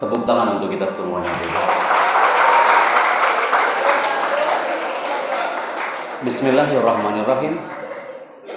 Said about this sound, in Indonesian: tepuk tangan untuk kita semuanya.